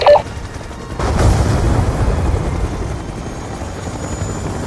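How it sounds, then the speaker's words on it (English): Helicopter in the Black Ops II video game: a dull boom, then a loud, steady rotor drone that thins out and carries on without speech. "We need to take out all 4 of these choppers with the stinger."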